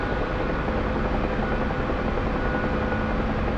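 A UH-1H Huey helicopter in the DCS World flight simulator runs steadily as it begins to lift off, a loud continuous rotor and turbine drone with no talking over it.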